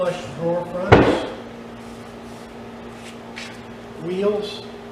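A pine dresser drawer on full pull-out runners slides and shuts with a sharp wooden knock, followed by softer sliding sounds, while a person speaks over it.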